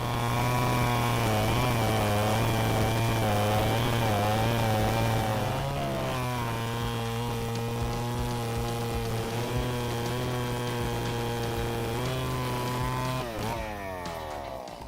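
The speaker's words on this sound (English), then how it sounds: "Thanks to the Stihl 70 Classic saw combined with sharp blades, cutting giant logs becomes easier." A Stihl 070 chainsaw cuts through giant logs, its loud, close engine droning steadily, with the pitch dipping and recovering as the chain bogs in the wood. No talk.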